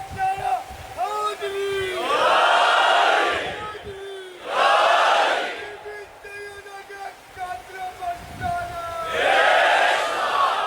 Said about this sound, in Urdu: بھائی یہ دوبارہ نعرہ لگاؤ اور سب جواب دیں اس کا